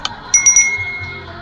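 In the Roblox game Garden Horizons, a bright bell rings with three quick metallic dings in a row after a short tap, close and clear over a low background hum, with no talking.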